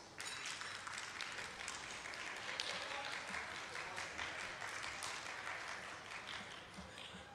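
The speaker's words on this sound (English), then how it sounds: "If you can hear me, clap once." A conference audience breaks into sustained applause, a steady wash of many hands clapping at once that holds evenly for several seconds, moderately loud with no individual claps standing out.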